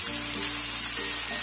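Taro greens and chickpeas cook in a pan with a soft continuous sizzle and a low steady hum, a couple of faint stirring scrapes rising briefly.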